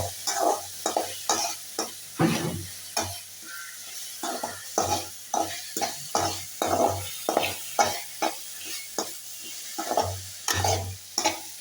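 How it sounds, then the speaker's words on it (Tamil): Curry leaves sautéing in a pan for a breakfast dish, a continuous sizzle broken by repeated rhythmic scraping and knocking of a stirring spoon, close and fairly loud with no talking. "கருவேப்பிலை சேர்த்து நல்லா வதக்கணும்"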